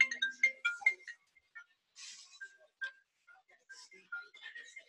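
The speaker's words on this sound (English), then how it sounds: "I should turn the phone off so it doesn't ring and interfere." A phone ringtone plays a bright, melodic sequence of short tones in bursts, fairly quiet and alone with no talking.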